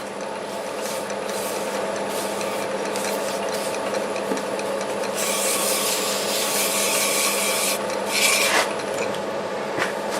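Sandpaper rubbing against a wood turning spinning on a lathe, a continuous raspy scrubbing over the machine's steady hum, growing brighter and harsher midway with brief louder bursts.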